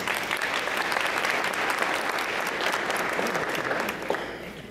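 A crowd at a United Way of Etowah County annual meeting claps steadily and loudly for several seconds before the applause begins to thin out.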